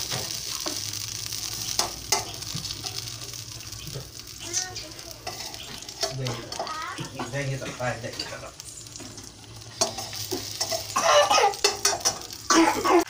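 Tomatoes fry in a kadai that has just held fried green chillies, giving a continuous crackling sizzle with stirring scrapes, joined by occasional coughs and faint background noises.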